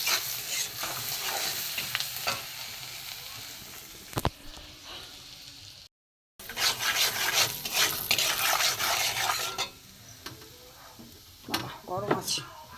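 Turmeric, chili powder, grated ginger, salt and ground cumin-coriander are fried in hot oil over a lowered gas flame, a close sizzle with repeated scraping strokes of a spoon stirring the pan, briefly cutting out midway.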